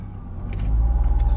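A Renault Clio engine is revved to about 2000 RPM during servicing, a loud, close, steady low rumble that builds and settles into a pulsing drone, heard alone.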